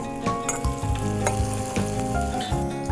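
Chopped onion sautés in a pan for a Satara-style mhadya peanut curry, giving a steady, close sizzle with light stirring scrapes throughout.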